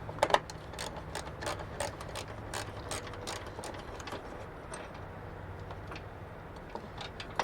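The battery hold-down on a Honda Odyssey is loosened with a ratchet, a steady run of quick, faint clicks repeating evenly throughout, close by with no talk.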